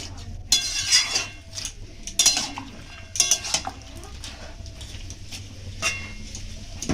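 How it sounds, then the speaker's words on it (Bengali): Cabbage stirred in water with salt and turmeric: a utensil clinks and scrapes against the pot in a few separate bursts, close and moderately loud, with quieter rustling and bubbling between them. "একবার বাঁধাকপিটা নেড়ে দেব জলের মধ্যে তাহলে নুন আর হলুদটা সব বাঁধাকপির গায়ে লাগবে"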